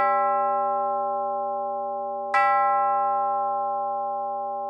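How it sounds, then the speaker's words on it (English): Bell tolling as a sound effect in a radio drama of Macbeth, two clear, ringing strikes about two seconds apart, each with a long, slowly decaying hum, loud and alone. "The bell invites me."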